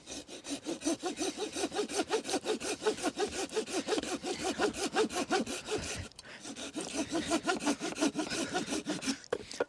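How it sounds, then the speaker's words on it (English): A Fire Maple Knight folding pull saw cuts through oak with steady, rhythmic rasping strokes, close up, pausing briefly near the end before resuming. "I was sawing on that, and you have to remember that these are pull saws"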